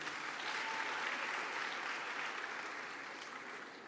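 A conference audience at the YouthConnekt Africa closing ceremony in Kigali, Rwanda, gives a speaker a round of applause; faint, continuous clapping that fades slightly toward the end, with no talk.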